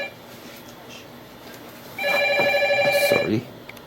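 A telephone rings in a lecture room, a short run of bright repeated trills lasting about a second and a half, loud and near against a quiet background.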